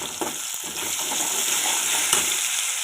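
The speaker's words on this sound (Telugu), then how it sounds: "తాలింపు గింజలండి, జీలకర్ర, మిరపకాయలు 4 వేసుకోవాలి." Tempering seeds, cumin and chillies frying in hot oil for upma, a steady bright sizzle with a few crackling pops, close and continuous with no talking.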